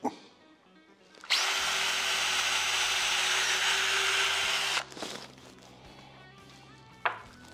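A power drill bores into a Gibson SG electric guitar body during a refinishing job, one loud, steady burst of about three and a half seconds, followed by quieter handling noise and a sharp knock near the end.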